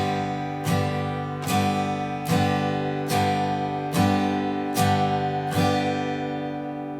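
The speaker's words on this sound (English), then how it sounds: "there's another whole world out there in which you can play up strums" Acoustic guitar strumming in a steady rhythm, about seven even chord strokes, each ringing loud and close before the next, with no talking.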